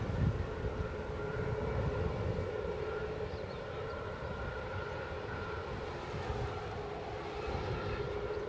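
A VistaJet Global 6000 business jet taxis at Edinburgh airport, a steady, distant, even engine whine and rumble holding at a constant level with no other sounds.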